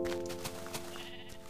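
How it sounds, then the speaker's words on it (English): A Minecraft sheep bleats several times in quick, wavering calls, fairly close and clear over a soft ambient game background with no talking. "More sheep."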